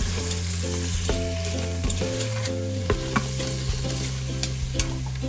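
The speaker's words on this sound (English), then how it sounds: "And we're going to stir this up." Beef stroganoff ingredients with coconut aminos sizzle and fry in an Instant Pot while being stirred, with a steady loud sizzle and scraping, under a constant appliance hum and no talk.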